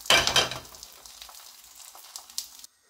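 Msemen, a Moroccan flatbread stuffed with minced chicken, fries in a pan with a steady soft sizzle, a brief louder crackle near the start, then quiet hissing and faint scraping before cutting off.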